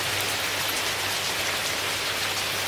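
Dense, steady bubbling and hissing noise of water at a rolling boil in a metal canteen cup, constant and close, with a faint low hum underneath.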